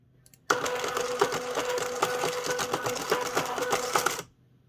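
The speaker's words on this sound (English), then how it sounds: "We can see the robot in action now." A Rubik's cube solving robot's motors turn the cube in a close, continuous burst of rapid mechanical whirring and clicking that lasts about four seconds, then stops.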